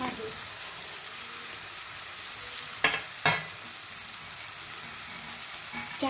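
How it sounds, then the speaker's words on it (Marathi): Bitter gourd hitting hot oil in a spice tempering, giving a steady close sizzle and fry hiss, broken by two sharp stirring scrapes near the middle and lighter clinks later. "आता आपण त्याच्यामध्ये सर्व कारले हे आपल्याला टाकून द्यायचे आहे"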